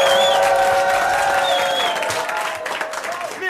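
Audience at a 1992 French television variety show breaking into loud applause and some cheering, with a voice speaking over the clapping as it continues.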